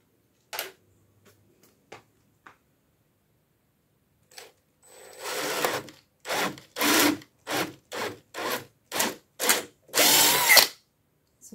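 A power drill bores depth-marked holes for wall plugs in the wall of a ruined house under renovation: after a few faint taps, one long whine is followed by about seven short, loud, evenly spaced bursts and a final longer run, all close.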